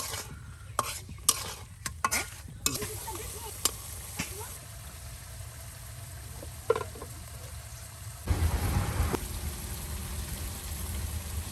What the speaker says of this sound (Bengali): মাছটা দেখুন কত সুন্দর করে কষিয়ে নেওয়া হচ্ছে